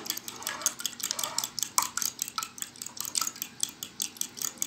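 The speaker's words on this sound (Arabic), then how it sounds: "ومعانا كده الشوكه، ونقلب كده كويس البيضه مع اللبن والبيكنج باودر" A fork stirring egg, milk and baking powder in a bowl, steady rapid clinking taps against the dish, close and clear with a brisk repetitive rhythm.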